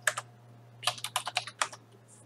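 Someone types a terminal command on a computer keyboard: a crisp tap, a short pause, then a quick run of about eight close, clicky keystrokes with no talking.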